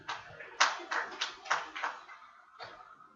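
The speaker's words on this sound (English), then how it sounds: "Give them a big clap." A short burst of sparse hand claps, about half a dozen sharp, uneven smacks, fairly faint, trailing off after a pause.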